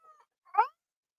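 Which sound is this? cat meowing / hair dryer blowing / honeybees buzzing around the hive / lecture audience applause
cat meowing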